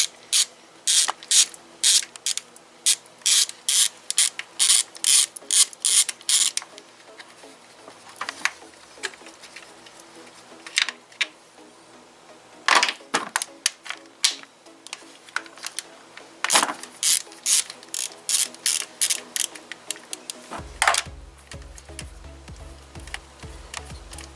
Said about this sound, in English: All the bolts will need to be removed now.